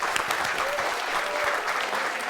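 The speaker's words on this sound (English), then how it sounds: "I think you ought to be applauded for agreeing" Steady audience applause fills the space, dense and even from start to finish, with clapping close and loud and no voices rising above it.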